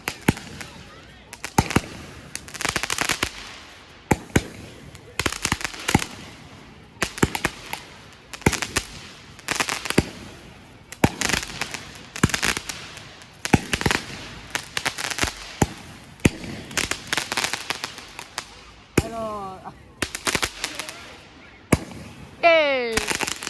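Big fireworks burst repeatedly in loud, irregular volleys, with sharp crackling booms close by, and a few whistling rockets streak upward near the end.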